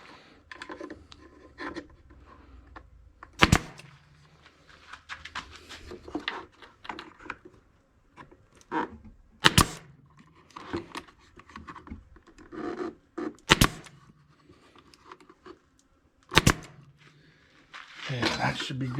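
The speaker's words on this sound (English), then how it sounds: "got the nail gun ready to go. I'm going to go ahead and hit this a few times" Sharp nail gun shots drive nails into the wooden top rail of a Langstroth hive migratory top, four loud separate bangs spread across the stretch amid light scraping and handling noise.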